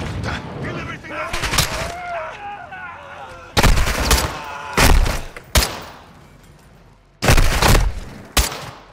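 Gunfire in Call of Duty: Modern Warfare 2 during a prison assault, loud booming shots in separated bursts amid game clatter and background voices.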